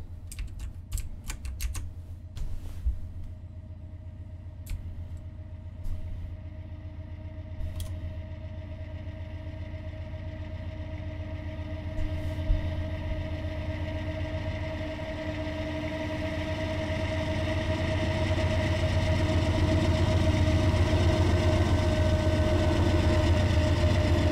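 A GE AC4400 diesel locomotive in Train Simulator 2018 powers up, a steady low engine drone with sustained tonal hum that swells louder over the last third, preceded by a few sharp clicks and taps near the start.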